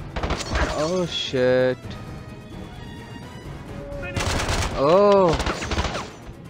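Heavy bursts of gunfire from a newly picked-up gun in the James Bond 007: Blood Stone video game, Bangkok chapter, ringing out in two loud clusters while a man exclaims between them.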